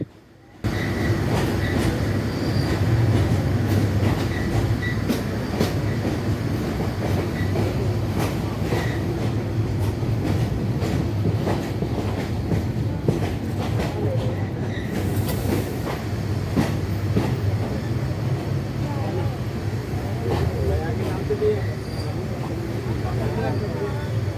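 The Mohanagar Godhuli Express at Bhairab Junction, heard from inside a carriage as a continuous heavy rumble with rhythmic wheel clatter, and voices murmuring in the background.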